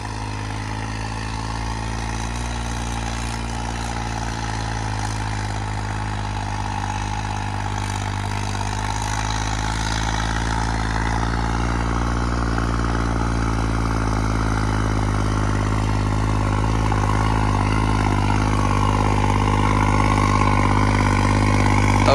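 A tractor engine runs steadily and close by, a deep, even rumble with a throbbing hum that swells slightly louder toward the end, heard alone without talk.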